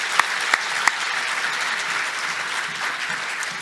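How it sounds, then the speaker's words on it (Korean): A church congregation applauds steadily in thanks during a Korean service, a dense, even patter of clapping sustained throughout, with a few sharp louder claps standing out near the start. "감사하다고 박수를 한번 격려하십시오"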